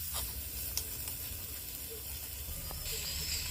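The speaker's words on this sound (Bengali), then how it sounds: "এর মধ্যে দিয়ে দিলাম চিকেনের পিসগুলো দিয়ে ভালো করে নাড়াচাড়া করে" Chicken pieces frying in a pan of spiced masala with turmeric and chili powder, giving a steady close sizzle and hiss with a few faint stirring clicks, no voices.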